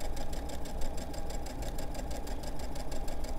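A sewing machine stitching over fabric for a pajama set, running at a steady rapid whir and mechanical chatter, close and continuous throughout with no talking.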